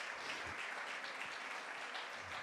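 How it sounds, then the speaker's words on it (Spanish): Applause from a church congregation, many hands clapping in a dense, steady wash that holds evenly throughout, moderately distant and fairly soft. "Y ahora denle un aplauso"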